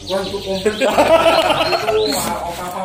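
Caged canaries chirp and tweet in quick bursts amid a busy, noisy space, with people talking over them.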